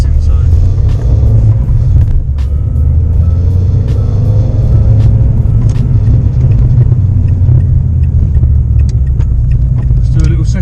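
A Renault Clio 172 fitted with a Ktec induction kit, heard from inside the car in second gear: a loud, steady engine drone and road rumble with wind noise throughout.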